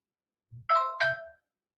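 A mobile phone ringtone chiming in a lecture room, two quick bright notes with soft low thumps, fairly faint and heard alone.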